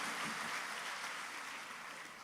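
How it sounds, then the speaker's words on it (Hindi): An audience applauding at a Hindi comic poetry gathering, a dense wash of steady clapping from a crowd that slowly fades over a couple of seconds. "एक बार तालियां बजा करके माहौल दे दीजिएगा"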